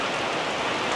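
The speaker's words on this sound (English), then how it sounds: "the rain comes in, it dumps and it runs off" A sudden tropical downpour in Bangkok's Chinatown, heavy rain pouring down as a steady, dense hiss that stays loud and unbroken throughout, with no voices.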